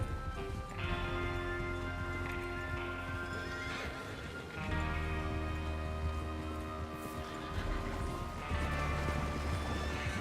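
Steady hoofbeats of horses galloping with occasional whinnies in the video game Red Dead Redemption 2, layered over a constant rumble and background music tones, no talking.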